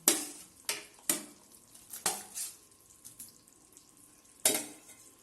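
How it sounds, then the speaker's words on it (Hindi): Fried paneer is stirred into butter masala gravy with a spoon, giving several distinct scraping knocks against the pan and a soft, quiet simmer between them. "इसमें हम अब पनीर मिला देंगे जो हमने फ्राई करके पहले रखा हुआ था"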